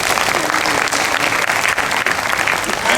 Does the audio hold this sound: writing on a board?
no